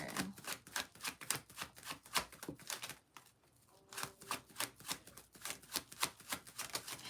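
Decks of tarot cards are shuffled by hand in rapid, riffling bursts, close and crisp, with a short pause partway through before the quick flicking resumes.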